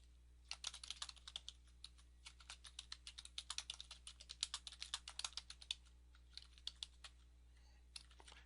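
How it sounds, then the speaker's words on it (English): Rapid keystrokes on a computer keyboard form a busy, uneven clatter of close, crisp clicks that thins out toward the end, with a low steady hum underneath and no voices. "type in your email address, and then type in your site name"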